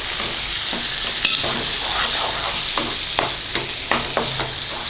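Eggplant sautés in hot oil with turmeric and chilli powder, giving a close, steady sizzle broken by repeated scraping stirs of a spoon against the pan.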